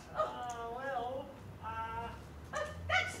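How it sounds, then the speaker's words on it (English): A dog barks and whimpers in a few drawn-out, tonal yelps and whines, fairly close, separated by short pauses. "That's the dog I saw."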